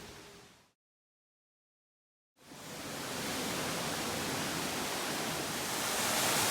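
Wufengqi Waterfall in Jiaoxi, Yilan, Taiwan, a steady broadband roar of rushing water, loud and continuous after a brief silent gap near the start.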